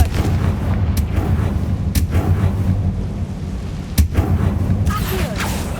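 Confringo fire spell cast in Hogwarts Legacy on PS5, giving loud booming blasts with sharp impacts near 1, 2 and 4 seconds over a continuous rumbling background of combat noise.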